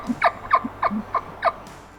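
Short chirping calls of an elk, about five high, quick whistled notes spaced evenly and fairly close, with no other sound around them.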